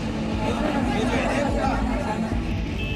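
Chatter rises from a crowd stuck in a traffic jam on the Char Dham pilgrimage route, overlapping voices blending into a steady, nearby babble.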